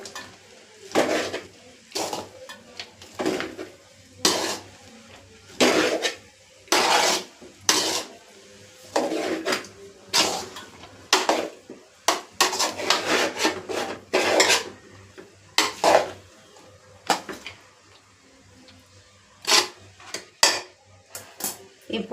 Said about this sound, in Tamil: இப்போது எல்லாத்தையும் இப்போது கிண்டி விடுவோம் போட்டு.